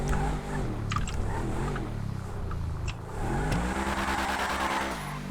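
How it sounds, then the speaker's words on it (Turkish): A Mercedes-Benz car engine idles and hums at low revs in GTA 5, rising and falling gently, with a few brief clicks and faint tire noise. "Ses yapmayayım arabaya düşük devirde geleceğim."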